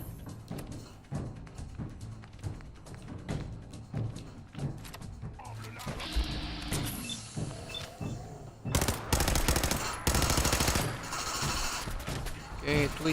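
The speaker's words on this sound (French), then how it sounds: "Une mitraillette! Une Karanchikov, une affaire de même." Bursts of machine gun fire, rapid rattling volleys with pauses between them. Some sound louder and closer and others thinner, mixed with thuds and other noise.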